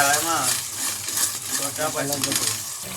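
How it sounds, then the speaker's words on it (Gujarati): Pav bhaji masala fries in oil in a pan, giving a steady close sizzle with stirring scrapes throughout, while a voice talks over it. "જો મિત્રો કમ્પ્લીટ મસાલા તળી ગયા છે, એકદમ રેડી થઈ ગયા છે"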